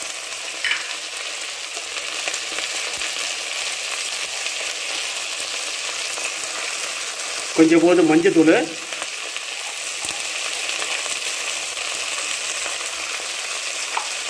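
Okra sautéing in a pan with salt and turmeric, a steady soft sizzle throughout with a brief louder burst of frying and stirring midway; a voice speaks briefly.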